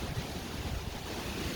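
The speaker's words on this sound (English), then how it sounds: "it's a real windy one today." Wind buffeting the microphone outdoors by a pigeon loft with a rough, gusty rumble, loud and continuous without any voices.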